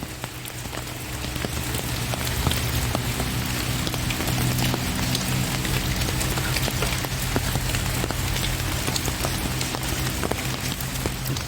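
Steady rain pattering onto shallow water along a canal bank on a wet morning, a dense continuous hiss with scattered close drops, loud and unbroken with no voices.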